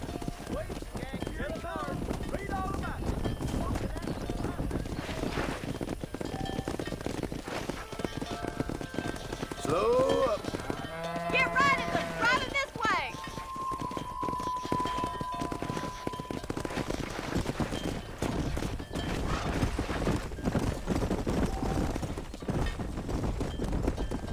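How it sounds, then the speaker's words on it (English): Horse hooves clip-clop steadily alongside a driven cattle herd in the Red Dead Redemption video game on PS5, a continuous trotting rhythm with rustling movement and occasional animal calls throughout. "Herd the cows down the road."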